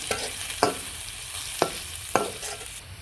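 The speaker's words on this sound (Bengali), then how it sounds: "এটাকে আমি ফোড়নের সঙ্গে একটু ভেজে নিব।" Whole garam masala of green cardamom, cinnamon, cloves and black peppercorns fries in hot oil with tempering for a chicken curry, giving a steady close sizzle broken by a few sharp stirring scrapes.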